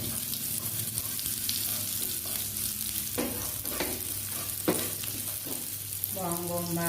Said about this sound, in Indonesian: kita masukkan bawang putihnya